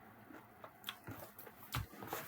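Close, quiet chewing of solid food, with soft wet bites and crunches coming in an irregular rhythm and one heavier squishy bite near the end, with no talking.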